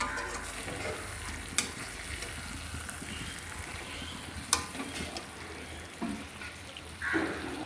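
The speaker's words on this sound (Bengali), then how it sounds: "ভালো করে এটাকে নাড়িয়ে চাড়িয়ে নেব" Dried red chillies, spices and asafoetida fry in a pan while being stirred, a steady close sizzle broken by a few sharp scrapes and clinks of the spoon, with no talking.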